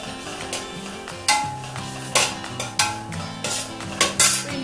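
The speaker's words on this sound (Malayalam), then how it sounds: "ചെറിയ ഫ്ലെയിം വെച്ച് ഇതൊന്ന് വഴറ്റി എടുക്കണം കുറച്ച് സമയം." Ginger being sautéed in a pan over a low flame for a sadya-style puli inji: repeated clinks and scrapes of a spoon against the pan, with a soft sizzle underneath and no talk.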